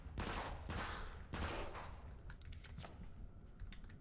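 Video game gunfire shooting enemies, a dense, sustained burst of rapid automatic shots that rattles on without a break, loud and close.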